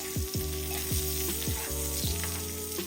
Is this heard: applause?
no